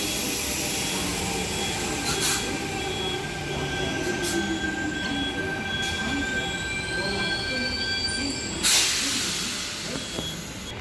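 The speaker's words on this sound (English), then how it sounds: "T16 and his friend departing platform number 1, whilst the Helensburgh service is arriving" An 8-car Helensburgh service pulls into Kogarah station with a loud rumbling roll and long high wheel squeals, a burst of brake hiss near the end, up close on the platform.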